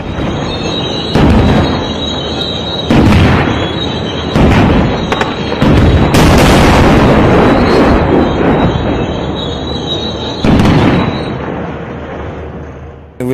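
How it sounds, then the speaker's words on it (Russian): Tank cannon shots boom and crack out repeatedly over a loud, rumbling background of combat, with one especially strong, sustained explosion in the middle; street fighting in Qaboun, Damascus, Syria. "Выстрел танка прекратил это безобразие."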